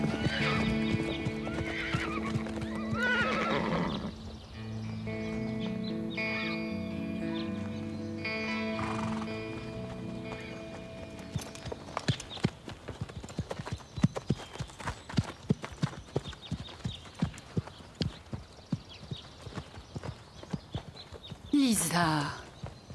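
A ridden horse clip-clops along at a steady gait, hoof beats sharp and regular, with whinnies and neighs at the start and end, while people talk over parts of it.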